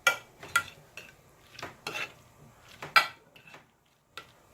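A metal spoon mixes and presses seasoning into fish in a bowl, producing several sharp clinks and scrapes at an irregular pace, fairly close and quiet, with no talking.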